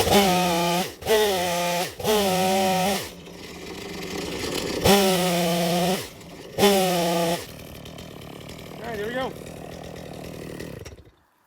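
A chainsaw cutting wood outdoors runs loud and close, its engine revving in repeated bursts that dip between cuts before settling into a steadier drone, with a voice briefly under it.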